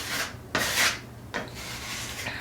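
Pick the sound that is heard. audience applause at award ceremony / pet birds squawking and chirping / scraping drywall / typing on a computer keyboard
scraping drywall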